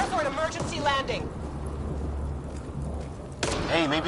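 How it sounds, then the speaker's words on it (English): A deep, sustained rumble of thunder from a lightning strike in the video game Mass Effect Andromeda rolls beneath and between spoken dialogue, low and steady for a couple of seconds before talk resumes. "We've experienced a catastrophic lightning hit."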